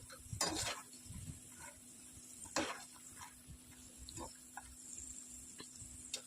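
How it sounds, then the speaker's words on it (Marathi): Peanuts fry in hot oil for masala bhadang, a faint sizzle under a quiet kitchen background, punctuated by several sharp clinks and stirring knocks of a utensil against the pan. "हे शेंगदाणे घेतलेत मी, तळून त्याच्यात घालते."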